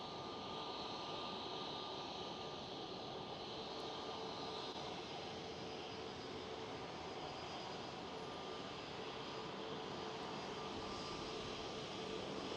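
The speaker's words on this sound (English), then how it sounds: "Transavia Airbus A321neo taxiing into the gates." A Transavia Airbus A321neo jet taxis into the gates at Amsterdam Schiphol, its engines giving a steady, even whine and rumble that stays faint and constant throughout.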